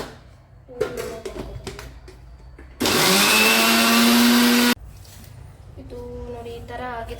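A kitchen mixer grinder grinds curry leaf chutney powder in a loud, steady whirring burst of about two seconds, its motor pitch sliding slightly, set between quieter stretches of handling noise and background sound.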